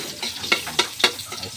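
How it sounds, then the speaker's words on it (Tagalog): Garlic and onion sauté in a pan, a short burst of close sizzling broken by a few quick stirring scrapes. "Magigisa na po tayo ng bawang at sibuyas."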